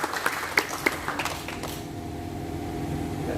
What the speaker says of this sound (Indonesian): Tepuk tangan buat Pak Hasbi Alawiyah, Pak Dir SBY